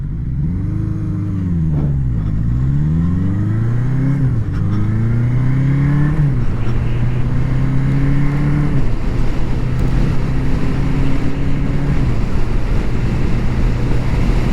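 A 1981 Honda CB750C motorcycle engine being ridden up through the gears, a loud steady drone whose pitch rises and dips with each shift, no talking, with wind noise throughout.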